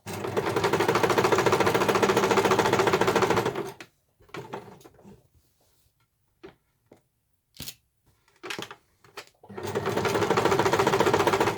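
A sewing machine stitches a piped cushion cover in two steady bursts of fast mechanical whirring, close and clear, with quiet handling clicks and taps in between.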